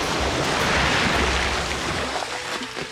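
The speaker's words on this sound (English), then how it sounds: "I've got to defend my sandcastle from the sea." Sea waves wash against a beach sandcastle in a loud, steady broadband rush of surf and wind that eases slightly near the end, with no voices.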